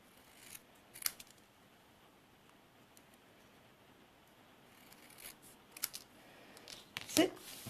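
Scissors trimming cardstock closely around words, a few quiet snips scattered through near silence, with a louder cut near the end.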